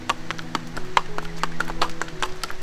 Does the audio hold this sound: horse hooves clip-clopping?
yes